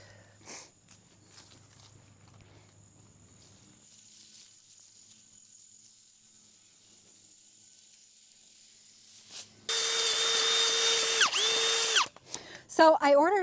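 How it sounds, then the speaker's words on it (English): Power drill fitted with a 2-inch by 36-inch power planter auger boring into garden soil for bulb planting, a loud steady whirring burst near the end after a quiet stretch, then stopping with a few short revs. "So I ordered a 2-inch diameter, 36-inch long power planter auger, specifically for bulb planting."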